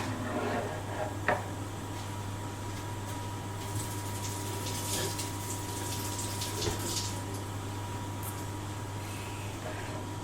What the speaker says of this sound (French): je vais laver ma courgette